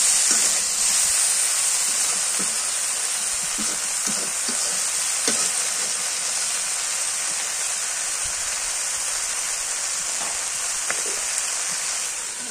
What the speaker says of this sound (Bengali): কি সুন্দর স্বর বাজছে না